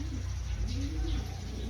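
A pigeon coos softly under a steady, loud background hum, its low throaty call rising briefly near the middle.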